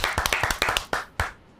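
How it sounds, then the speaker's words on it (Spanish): Several people clap in a studio to welcome a guest on a Spanish-language sports show, with a handful of sharp, distinct claps in quick succession that thin out and fade. "Aquí en La UCA Deportes, recibimos con beneplácito y aplausos a Carlos Baerga."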